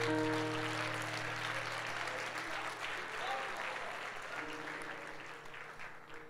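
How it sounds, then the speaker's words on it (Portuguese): Congregation applauding in church, steady broadband clapping across the whole stretch with a sustained musical tone underneath and voices mixed in. "pode aplaudir o Senhor"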